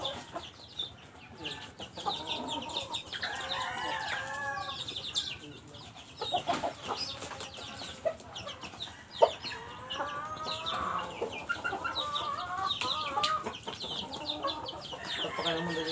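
Farmyard chickens clucking at a goat-raising farm, with a rooster among them; scattered clucks and squawks come in irregular bursts at moderate distance throughout, mixed with soft background activity.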